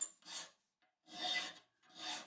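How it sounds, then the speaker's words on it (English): Fine-cut steel file drawn across a homemade woodworking square, three separate rasping strokes with short quiet gaps between them, close and fairly soft, with no voices. "I'm going to switch to the finer cut file and bring it right down to the line"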